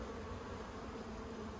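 Honey bees crawl over plastic hive frames in an Australian backyard hive during swarm-prevention splits. They give off a faint, steady, even drone of buzzing with no pauses and no voices.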